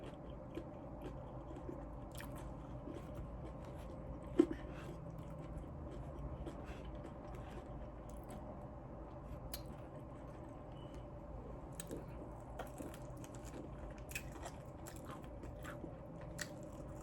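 Quiet, close chewing and biting of crunchy fried chicken wings, with small crisp crunches and moist mouth sounds scattered steadily throughout, plus one sharper bite near the middle.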